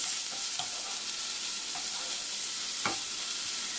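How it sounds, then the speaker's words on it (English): Red onions sizzle steadily in a hot pan, a constant crackling hiss broken by a few scraping stirs of a utensil. "Oh, I love the smell of frying onions."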